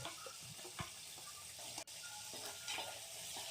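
Small onions sauté in a pan for a Kongu-style rice and dal dish, a faint continuous sizzle with a few soft stirring scrapes and clinks and a single sharp tap near the middle.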